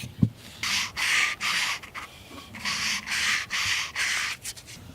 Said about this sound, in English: We're sanding that edge,